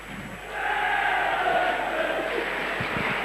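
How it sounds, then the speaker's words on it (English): Rugby league crowd at a 1998 championship semi-final, a loud sustained roar of cheering and chanting that swells after the first half second and holds steady, dense and distant-sounding across the stands. "And just listen to that crowd over there."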